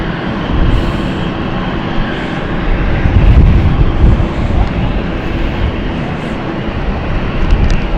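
A Swiss airliner's jet engines roar loud and steady while it lines up on runway 27 at London City Airport, a constant broad rumble filling all eight seconds.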